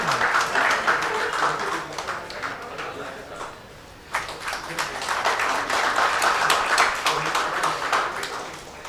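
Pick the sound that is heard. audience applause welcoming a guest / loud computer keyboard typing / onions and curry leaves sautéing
audience applause welcoming a guest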